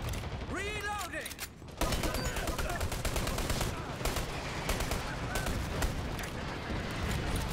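Battle noise in the PC shooter game Dirty Bomb: dense, loud bursts of gunfire and blasts rolling on continuously, with a brief voice near the start under the din.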